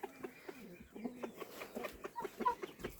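A hen clucks repeatedly in short, uneven bursts, close by, calling to other hens, with other fowl faintly chattering in the background.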